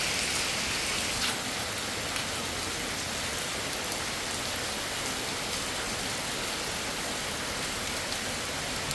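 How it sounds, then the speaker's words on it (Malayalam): Heavy downpour drums on roofs and ground around a house porch, a thick, unbroken wash of rain noise that holds steady and close throughout, no one speaking. "സൂപ്പർ മഴ."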